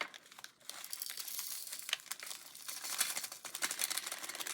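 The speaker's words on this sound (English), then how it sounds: "I'm going to cut this bag way down so I'm not fighting with a gigantic" A plastic bag is cut down and crinkled by hand, giving close, continuous crackling and rustling with sharp snips and bursts of crumpling, no voices.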